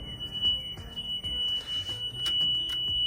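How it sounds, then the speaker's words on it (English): Yamaha Drive 2 EFI stretched golf cart warning buzzer sounds as a steady, thin high-pitched tone held throughout, moderately loud and close, over faint background noise. "Buzzer's annoying."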